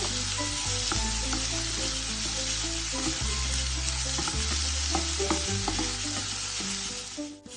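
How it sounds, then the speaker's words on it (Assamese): Onions sizzling in hot oil left over from frying eggs for a home-style egg curry, a steady loud crackle with occasional stirring clinks, no voices. "এতিয়া কণী ভজা তেলখিনিতে পিঁয়াজ দি দিছোঁ।"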